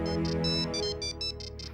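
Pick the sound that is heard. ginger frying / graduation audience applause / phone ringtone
phone ringtone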